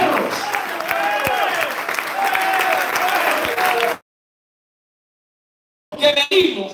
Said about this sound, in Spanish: Yo voy a aplaudir